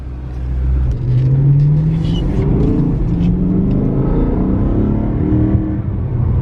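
A BMW M3 pulls away under acceleration, its engine note rising and holding a loud, steady roar as the car drives, heard close from inside or near the car, with no talk.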